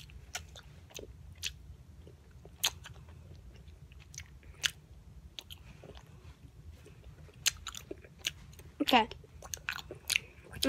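Chewing food during a taste test of two pink foods, dark and light: soft, irregular close crunching and biting clicks scattered across the clip, with brief speech.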